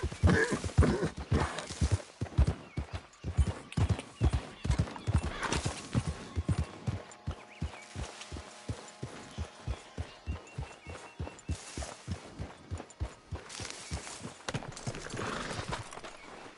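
Horse hooves clip-clop at a steady galloping rhythm in Red Dead Redemption 2, with occasional whinnies and snorts, fairly quiet and continuous throughout.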